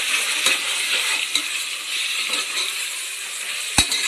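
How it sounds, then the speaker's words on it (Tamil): Ginger garlic paste sizzling as it hits fried onions in a hot pan while mutton biryani is being cooked: a steady bright hiss of frying, broken by a few soft clinks of a utensil. "இப்போ நம்ம வந்து இஞ்சி பூண்டு பேஸ்ட்டு சேர்த்துக்கிறோம்"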